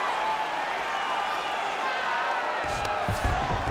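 Steady broadband crowd roar from the arena audience in a UFC 5 simulated lightweight bout, holding loud and continuous throughout with a few sharper bursts near the end.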